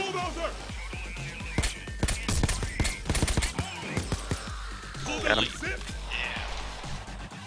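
Rapid bursts of weapon fire crack through a firefight in Payday 2's Bomb: Forest heist on Death Wish difficulty, dense and loud, with players talking over the shooting.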